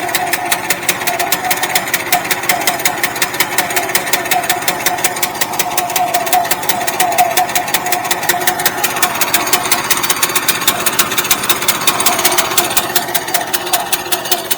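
A sawmill engine idles and warms up before cutting a 21-foot oak log, running loud, steady and close with a rapid, even knocking throb that holds throughout.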